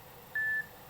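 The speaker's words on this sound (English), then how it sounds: "Message alert tone is this." Nokia 3310 mobile phone message alert tone: a single short, clean electronic beep at a steady pitch, sounding alone against a quiet background.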